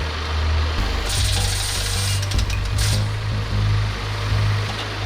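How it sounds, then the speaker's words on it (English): Pneumatic impact guns remove axle covers from a semi trailer during a heavy-equipment big rig recovery, a loud continuous mechanical roar with bursts of rapid rattling hammering. "The crew used pneumatic impact guns to remove axle covers on the trailer for inspection and rigging."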